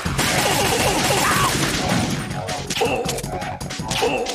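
Gunfire in the video game Metal Gear Solid 2, a busy stretch of rapid shots and crashes with a few sharp electronic tones, loud and dense throughout.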